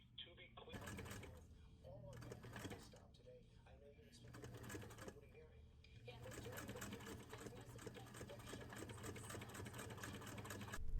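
Sewing machine stitching a narrow hem, steady mechanical whirring in runs broken by short pauses, close and clear with a faint voice at times.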